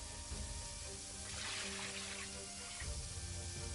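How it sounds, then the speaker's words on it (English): Cold water pours from a tap into a plastic storage bin, a steady rushing splash that swells in the middle and then eases, heard close and alone. "We took a storage bin and filled it up with cold water."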